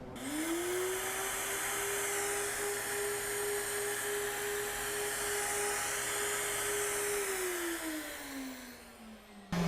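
Flow bench testing a BMW S58 cylinder head, a loud steady airflow roar with a rising whine that holds level for several seconds, then winds down near the end.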